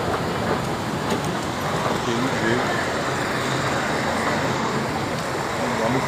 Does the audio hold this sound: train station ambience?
yes